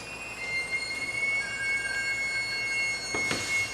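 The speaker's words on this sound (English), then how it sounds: "The train's taking off." A train pulls away with high, thin wheel squeals sliding in pitch over a steady rumble of rolling rail cars, fairly close, with a sharper burst of screeching near the end.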